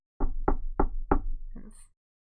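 Four evenly spaced knocks on a cheap, slightly rattly wooden door, close and fairly firm, followed by a brief soft shuffle as the sound dies away; no voices.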